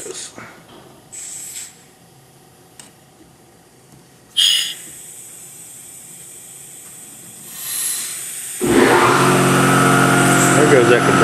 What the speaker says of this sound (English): There goes that compressor.